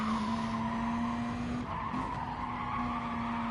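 RC Gr3 Beetle race car at Suzuka Circuit with its tires skidding and squealing in a long, steady screech over the engine's drone as it drifts wide through a turn.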